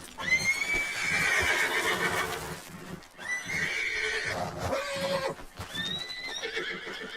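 Several loud, high whinnying neighs from a horse in a video game ring out in close succession, with strained, wavering cries and a faint clip-clop of hooves beneath.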